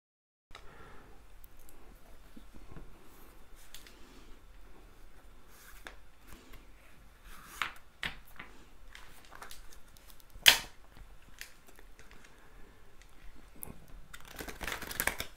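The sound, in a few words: shuffling and cutting tarot cards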